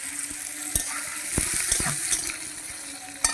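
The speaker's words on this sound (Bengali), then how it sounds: "এবার আমি যে সয়াবিনটা ভিজিয়ে রেখেছিলাম এটা এবার আমি ভেজে নিচ্ছি" Soaked soybean chunks fry in hot oil with a steady, close sizzle and crackle, broken by a few sharp knocks and scrapes from stirring in the pan.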